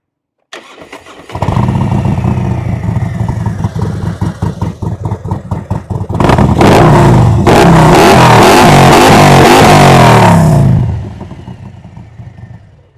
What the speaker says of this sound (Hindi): ये आफ्टर मार्केट एग्जॉस्ट है, इसको हम लोग यहाँ से ऑन करेंगे